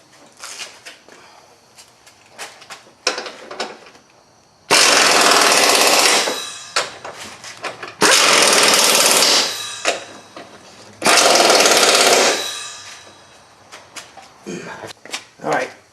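A power tool runs strut bolts in on a 2001 Buick Park Avenue front suspension, with three loud sustained buzzing bursts of a few seconds each, close up, between quieter clanks and handling noises.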